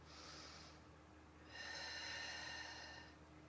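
Breathing during a core and balance exercise holding a ball: a faint airy inhale, a pause, then a longer, stronger exhale through the nose, close and quiet with no talk.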